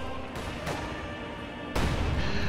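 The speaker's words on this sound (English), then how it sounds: "Oh my god, these explosions everywhere." Artillery and mortar explosions in a World War II strategy video game, a steady roar of blasts with a sharp, heavier boom near the end, fairly loud with no talk.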